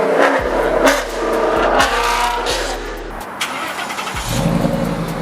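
Ford F150 with a 5.0 V8 and muffler delete: the exhaust rumbles deep and loud up close, with a few repeated revs rising and falling before settling back to a steady idle.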